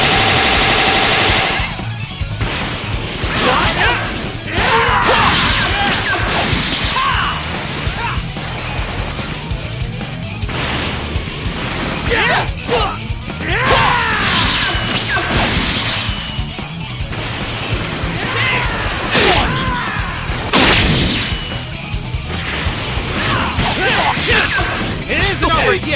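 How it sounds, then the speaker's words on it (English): Rapid missile barrage attack in the Dragon Ball Xenoverse 2 video game, a dense run of explosions, whooshes and impacts lasting the whole stretch, loud and continuous, with game voices shouting over it. "It isn't over yet! Tie-dye missile barrage!"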